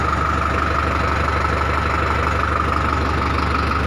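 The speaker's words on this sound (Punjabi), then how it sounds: "ਹੁਣ ਤੁਹਾਨੂੰ ਆਪਾਂ ਇਹਦੀ ਟਰੈਕਟਰ ਦੀ ਆਵਾਜ਼ ਸੁਣਾਉਣ ਲੱਗੇ ਹਾਂ ਸੁਣ ਸਕਦੇ ਹੋ ਤੁਸੀਂ ਕਿੰਨੀ ਸੋਹਣੀ ਆਵਾਜ਼ ਆ ਟਰੈਕਟਰ ਦੀ" A Sonalika 60 tractor engine idles steadily, a constant close diesel rumble with an even, unbroken throb and no other sounds throughout.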